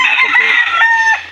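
A backyard rooster crows once, loud and close, its cock-a-doodle-doo rising and then trailing off in a single piercing call.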